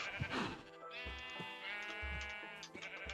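Sheep in the Minecraft video game bleat in a few harmonic, wavering cries close up, with small game sound effects in between.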